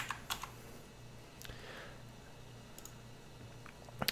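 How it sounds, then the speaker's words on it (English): Computer arrow keys pressed to nudge notes in Finale 2014.5 music notation software, a few sparse, faint clicks scattered over a quiet room hum, with a small cluster at the start and another at the end. "you can highlight the handle and nudge them using the arrow keys"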